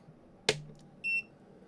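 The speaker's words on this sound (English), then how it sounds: "Lots of beeping going on" A sharp click followed by a short electronic beep from an Aixun T413 200W soldering station powering up, brief and quiet against a faint background hum.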